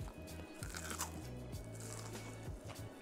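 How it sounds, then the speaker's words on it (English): Crunch of biting into a thick fried chicken tender from Wendy's or McDonald's, a few crisp close-up crackles over a few seconds with a low steady hum underneath. "Listen to this crunch."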